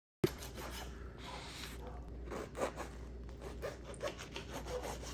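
A knife saws back and forth through a homemade Godfather Italian sub sandwich, giving a steady close rubbing and scraping sound for several seconds, with no talking.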